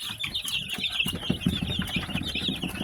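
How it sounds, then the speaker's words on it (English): Young chickens dust bathing make soft wing flaps and scratchy fluttering close by, mixed with small clucks and chirps over a low shuffling bustle. "Dust bathing. So the chickens are expressing their chickenness."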